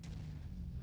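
A single heavy mech weapon blast in the video game MechWarrior 5, a deep booming shot that lands loud and close, then rumbles briefly.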